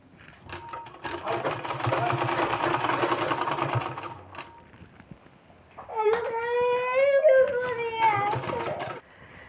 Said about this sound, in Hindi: तो हमको इस तरह से रख के और इसमें सिलाई लगाना है।